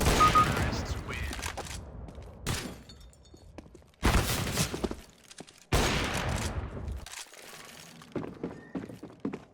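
Rapid bursts of gunfire in a CS:GO match, with shots fired through a wall: dense clattering volleys cut by brief pauses, loud and close, with a voice talking faintly underneath.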